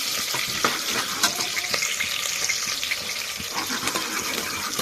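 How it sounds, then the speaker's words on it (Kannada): Chopped onion frying in hot oil in a pan over high heat, a steady broadband sizzle with occasional crackles and soft stirring clicks, close and continuous with no talk. "ಈರುಳ್ಳಿ ಫ್ರೈ ಆಗಿದೆ"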